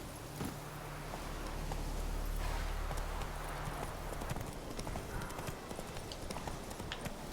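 A horse's hooves clip-clop at a walking pace in The Witcher 3, steady and fairly close, with quiet game ambience behind.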